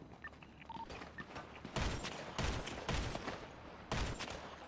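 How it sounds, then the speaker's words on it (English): Bursts of rapid gunfire in a GTA V NoPixel roleplay shootout, several loud clustered volleys spaced a second or so apart, close and sharp, with a quieter stretch before the first volley. "Yeah, they're shooting at me."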